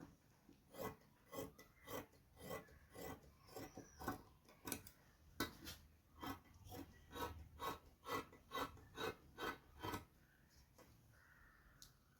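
Scissors cut through sleeve fabric in a run of about twenty rhythmic snips, close but faint, then stop near the end.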